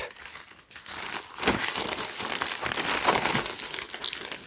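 Plastic USPS mailing package being cut open, dense crinkling and tearing of the plastic close up, continuous for several seconds with no talking.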